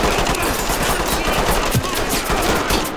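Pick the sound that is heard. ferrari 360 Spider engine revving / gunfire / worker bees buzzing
gunfire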